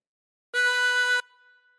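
One sustained draw note on a 24-hole tremolo harmonica, breathed in through hole 8, steady and reedy for over half a second before a soft fading ring, heard close with no voices.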